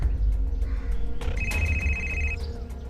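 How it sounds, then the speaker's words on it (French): A telephone rings in a French-dubbed television drama, a bright electronic tone rising over a low background rumble and holding for about a second before stopping, with no one speaking during it. "Non, ton téléphone."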